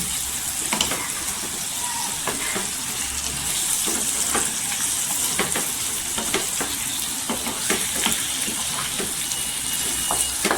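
Spiced potatoes stir-fried in oil in a pan over a low gas flame, sizzling steadily throughout with repeated scraping and stirring clicks from a spoon.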